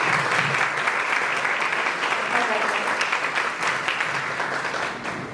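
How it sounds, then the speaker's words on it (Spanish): A dense, sustained wave of audience clapping at a reading-comprehension conference, loud and steady throughout and easing slightly near the end. "Yo le voy a pedir un fuerte aplauso para la señora Abusamba Valeria."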